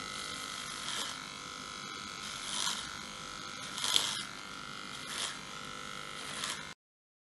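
Electric hair clippers shaving up the sides of a head, a steady close buzz with periodic louder swells as the blades sweep upward and pull out, repeated at a regular rhythm.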